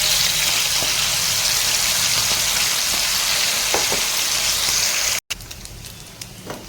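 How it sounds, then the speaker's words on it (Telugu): Chicken deep-frying in oil produces a loud, dense, unbroken sizzle that cuts off abruptly, then resumes as a quieter bubbling hiss with scattered light clicks. "ఇప్పుడు ఇది దీన్నే డీ ఫ్రై చేస్తాను"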